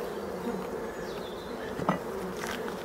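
A steady, dense buzz of many bees hangs around abandoned, rotting beehives in a forest. The drone is continuous and a few louder bees pass close by.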